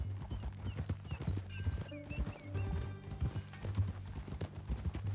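Horse hooves clip-clop steadily in Red Dead Redemption 2, close and moderately loud over a low rumbling game ambience, with a brief whinny-like note partway through.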